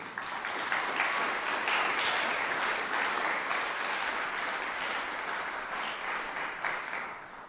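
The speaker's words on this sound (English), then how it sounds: "Let's give them a big round of applause, please" Sustained audience applause fills a hall at a school music hall of fame concert, steady and loud from start to finish with no talking over it.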